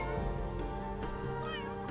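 Cat meowing in The Sims 3 Create-a-Cat mode, heard over steady game music and ambience; the calls are soft and close, rising in pitch toward the end.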